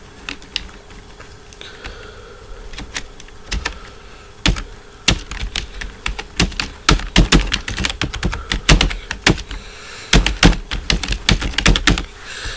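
Someone types on a computer keyboard while working in MS Word, producing a close, rapid stream of clicky keystrokes that start sparse and grow into dense bursts, with a heavier thunk of a bigger key now and then and no speech.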